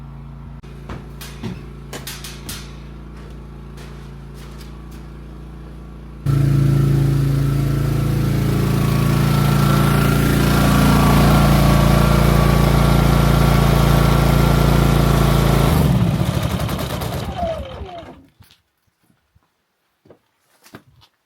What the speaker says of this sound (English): That's called a generator.